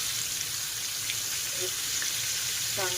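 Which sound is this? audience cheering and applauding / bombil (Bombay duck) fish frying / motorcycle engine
bombil (Bombay duck) fish frying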